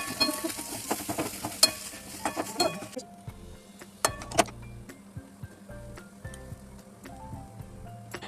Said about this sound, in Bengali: এরপর আলুটাকে ভালো করে মিক্স করে নেব।